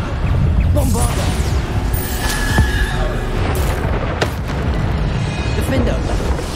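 Bombarda spell explosions in Hogwarts Legacy, booming blasts and crashing impacts amid dense, loud combat noise, with a voice speaking spell names over the din.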